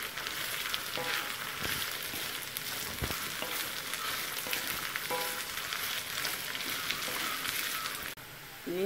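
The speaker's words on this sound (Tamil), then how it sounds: "இஞ்சி வந்து நல்லா ஃப்ரை ஆகணுங்க. இப்போ தான் ஃப்ரை ஆக தொடங்குது." Ginger frying over a medium flame in an iron pan for Kerala ginger curry, a soft steady crackling sizzle with occasional spatula scrapes, fairly quiet and cutting off near the end.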